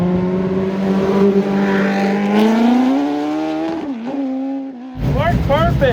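A race car drifts with its engine revving hard, a steady high engine tone climbing and then dropping, followed by a harsh burst of squealing tires, loud and close throughout.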